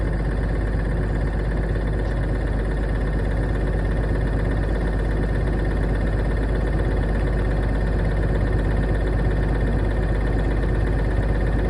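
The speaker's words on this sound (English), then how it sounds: "you can just use the throttle to do it" A school bus engine runs steadily at high idle, a constant loud low-pitched drone with no change in pitch and no voices.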